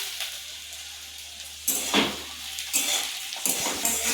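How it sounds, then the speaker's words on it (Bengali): Onion with green and red chillies frying in a pan, a steady close sizzle broken by a few louder bursts of stirring, with no voices. "আমি ভালো করে ভেজে নিচ্ছি"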